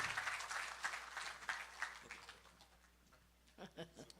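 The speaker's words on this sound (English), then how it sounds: "give him a really strong round of applause as we welcome Professor Selwyn Cudjoe" A town hall audience on crime claps to welcome a visiting professor, a faint, thinning patter that fades over the first couple of seconds before a voice begins speaking near the end.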